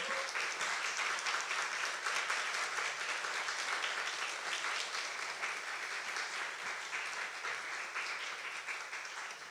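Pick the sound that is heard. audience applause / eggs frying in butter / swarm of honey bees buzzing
audience applause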